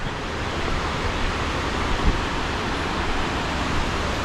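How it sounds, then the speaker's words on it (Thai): Steady broadband rush of the Pha Charoen waterfall in Phop Phra, Tak, Thailand, continuous and fairly loud with no breaks, heard from close by. "ได้ยินเสียงน้ำตกอยู่ข้างหน้าแล้ว"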